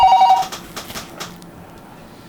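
A telephone rings indoors with a short electronic trill at the start and a brief return at the very end, over a quiet room murmur.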